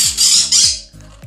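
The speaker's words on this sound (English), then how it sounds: "So we have 8 parrots." A pet parrot in a bird room aviary gives loud, harsh, close squawks, three or four raspy bursts in quick succession.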